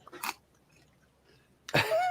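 Crunchy fried chicken from Jollibee is bitten and chewed close up, giving two short, crisp crunching bursts separated by a quiet pause.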